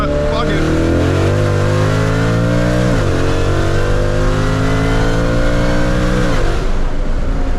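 A Shelby Mustang accelerating hard, engine revving up through rising pitch, dropping briefly at a gear change and climbing again, loud and close throughout with voices underneath.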